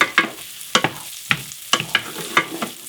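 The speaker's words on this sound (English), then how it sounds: "I'm going to toss in a little bit of the fresh oregano and basil. I'm just going to give that the briefest kind of saute" Garlic, fresh oregano and basil sauté briefly in oil in a pan, a soft sizzle broken by sharp, regular scrapes and taps of stirring, close and fairly loud, with no voices.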